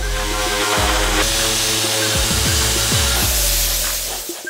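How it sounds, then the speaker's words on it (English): Power sander grinding down to bare metal on a simulated auto body repair with 80 grit purple premium abrasive, a loud steady whir with rubbing scrapes and brief dips as the pad shifts, heard alone. "We're gonna go ahead and sand it, then we're gonna lead in some body filler."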